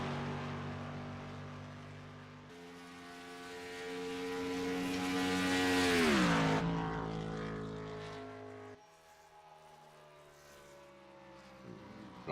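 A Ford Fusion race car roars down the front stretch of an oval track, its engine note swelling as it approaches and then dropping in pitch as it passes and recedes, with other cars droning faintly in the distance.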